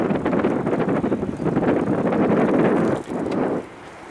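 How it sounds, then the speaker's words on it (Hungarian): Steady wind blowing and buffeting against the microphone in an opening valley among Norwegian mountains, a continuous low rushing roar with gusty swells and a brief dip near the end. "Itt jobban fúj a szél"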